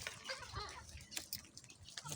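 Water is poured into a chicken waterer at a small backyard poultry pen, a faint trickling and dripping with a few brief splashes, close by and quiet.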